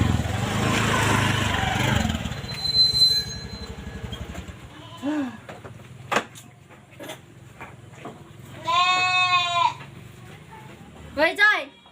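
Goats bleating in short wavering calls, several distinct bleats scattered through the stretch and a closing pair, heard over a low engine-like rumble at first and alongside people talking.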